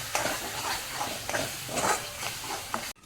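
Pav bhaji vegetables with garam masala sautéing in a pan give a continuous close hiss and sizzle, with a few scraping stirs of a spatula, before an abrupt stop at the end.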